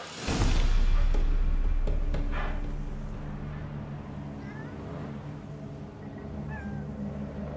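A cat meows in The Witcher 3: Hearts of Stone, heard over a low ambient game hum with a loud opening thump, then a few short faint meows later on.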